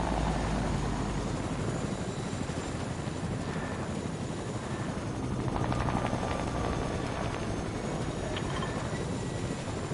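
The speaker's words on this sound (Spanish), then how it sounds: "Hay otro helicóptero, cógelo, Roberto" A helicopter in a video game drones steadily throughout with a continuous rotor and engine roar at constant loudness, with no talk.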